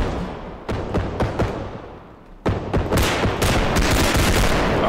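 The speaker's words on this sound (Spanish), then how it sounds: "Ay, he disparado demasiado a la derecha" Sharp rifle shots in the realistic shooter Bodycam, a handful of separate cracks at first, then after a brief lull a rapid, loud burst of automatic fire with ringing echoes.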